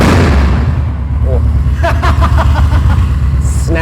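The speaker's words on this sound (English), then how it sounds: "Give it a good rev." Custom bagger motorcycle engine revving up close, a loud steady rumble with sharp throttle blips and crackles in the middle, voices talking over it.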